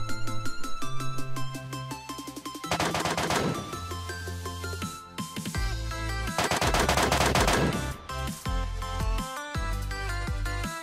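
Gunfire in the battle-royale shooter PUBG Lite: bursts of rapid automatic fire break out in dense volleys over a bed of steady tonal game sound, with no talking.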